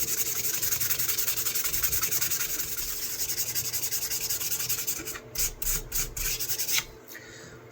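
A worn colonial-style knife blade is sharpened with continuous close rasping strokes, then a few separate, more distinct scrapes near the end.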